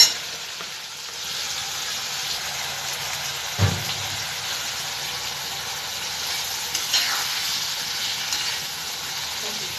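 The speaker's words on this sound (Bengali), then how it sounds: "আমার মশলা কষানো কমপ্লিট এবার আমি বুটটা দিয়ে দিলাম" Chickpeas dropped into sizzling fried masala in a pan, a steady close frying hiss throughout with a brief thump as they go in and light stirring after.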